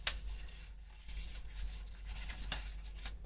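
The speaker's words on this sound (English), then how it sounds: "Today, I just feel like shuffling the cards all out here." Tarot cards are shuffled in soft, uneven bursts of papery rubbing and light slaps, close and fairly quiet, with no talking over them.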